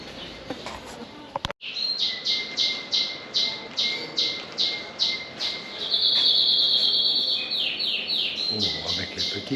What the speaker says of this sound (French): Avec les petits oiseaux.